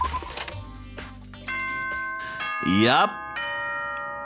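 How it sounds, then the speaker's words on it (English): School announcement chime from the Danganronpa video game: a rising two-note electronic tone with sustained ringing harmonics, heard after a brief spoken word over background music. "Ding dong. Bing bong. This is a school announcement."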